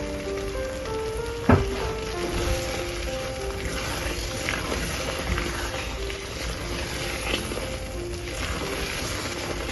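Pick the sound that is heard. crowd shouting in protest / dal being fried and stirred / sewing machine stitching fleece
dal being fried and stirred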